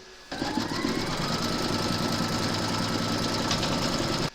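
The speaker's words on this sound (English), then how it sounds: "Pop your hoop into your machine and stitch round number 2 to secure it all." An embroidery sewing machine stitches a quilted crazy-patch notebook cover held in a hoop, a loud, steady rapid whirring hum that starts abruptly and runs on without a break before stopping, with no talking.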